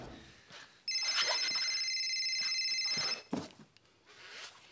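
A telephone rings with one sustained electronic trill lasting a couple of seconds, loud and near, with brief voice fragments before and after.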